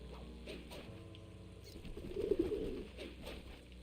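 Pigeons coo softly in Sly 2: Band of Thieves, a low burbling call swelling around the middle of the stretch over a quiet game backdrop with faint pattering, no talking heard.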